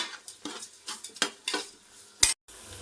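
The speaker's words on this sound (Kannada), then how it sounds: "ಅದು ಫ್ರೈ ಆಗಿದೆ ಈರುಳ್ಳಿ" Onions frying for veg pulao, stirred in a pan with a spoon in a series of short scraping strokes over a faint sizzle, one sharp metallic clink near the end.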